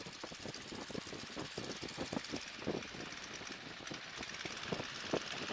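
A small propeller plane's engine runs steadily with a low, pulsing drone, continuous and moderately loud throughout, with no voices.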